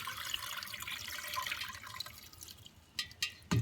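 Water pours from a measuring cup into a pot of pork pozole. It is the water left from rinsing and seeding chilies, heard as a close splashing stream that fades into a few dull knocks at the end.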